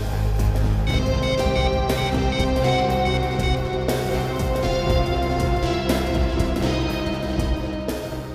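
Insistent electronic ring of a landline telephone, its tonal pattern repeating every two seconds or so, loud and steady over a background drone with no voices.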